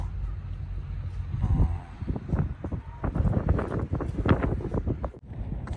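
Gusty wind buffets the microphone in rough, uneven bursts, with low rumbling and scattered rustling throughout.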